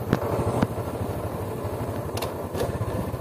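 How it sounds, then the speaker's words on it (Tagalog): A SYM 110 motorcycle strains up a steep mountain road, its small engine giving a steady, close, loud buzzing rumble with some rattling clatter throughout. "SYM 110 nga pala yung gamit naming motor."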